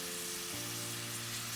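Chopped onions fry in a hot pan for Guyanese fish choka, giving a steady, even sizzle with a faint low hum underneath and no voices.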